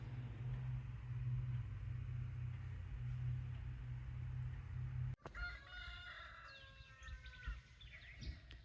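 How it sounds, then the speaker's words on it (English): A low engine hum cuts off abruptly, then roosters crow several times at a distance over faint outdoor ambience. "while I listen to roosters apparently"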